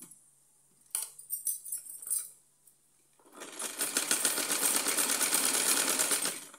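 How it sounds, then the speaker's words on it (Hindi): A sewing machine runs a fast, even stitching burr along the edge of cotton doll clothing, close and loud, after a few quiet handling clicks and knocks at the start. "इसको भी हमने सिल करके कंप्लीट कर दिया है।"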